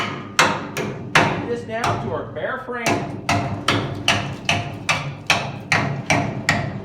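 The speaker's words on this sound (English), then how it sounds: "got our little air hammer here. We're gonna knock this scale off here" Rapid repeated metallic hammering from an air hammer knocking scale off old metal, sharp regular knocks close by, with someone talking briefly over the pounding.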